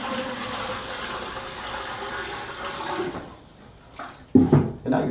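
Stored bathtub water is poured steadily into the back of a toilet tank during hurricane preparations, giving a continuous gushing splash that stops and is followed by a few louder gurgling surges.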